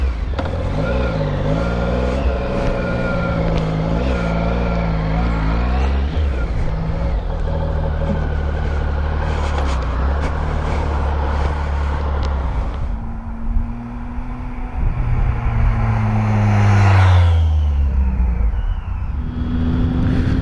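A 2016 Triumph Speed Triple R motorcycle riding on the road, its engine droning loud and close with a rising, shifting pitch under heavy wind rumble, easing off toward the end.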